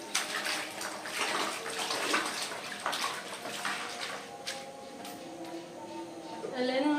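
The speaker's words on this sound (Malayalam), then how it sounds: "നന്നായിട്ടത് കഴുകിയെടുക്കാം." Spinach leaves are washed by hand in a vessel of water, with continuous close sloshing and splashing and a voice faintly present underneath.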